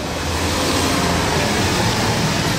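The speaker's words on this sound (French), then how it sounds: "Il faisait un bruit de fou parce qu'il a un échappement Capristo." A Lamborghini Aventador with a Capristo exhaust gives a loud, continuous engine roar with a rough, broadband exhaust rumble that holds steady throughout.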